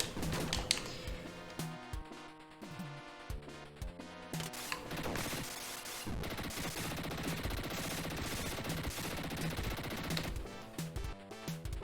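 Rapid machine gun fire from a retro video game, bursts rattling over busy chiptune-style music and game effects, steady and dense throughout with no talking.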